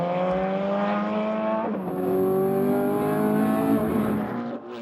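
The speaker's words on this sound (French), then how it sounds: "Les 400 chevaux de cette voiture lui permettent de dépasser allègrement les 300 km/h" A powerful 400-horsepower race car engine in Las Vegas revs hard and steadily climbs in pitch, loud and close, with a brief dip before rising again.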